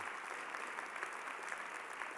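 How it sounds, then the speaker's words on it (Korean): Church congregation applauding for a pastor's wife and visiting grandchildren at a Korean church service in Queens, a steady, even wash of many hands clapping, faint and distant throughout. "이때 박수 한번 쳐주시고"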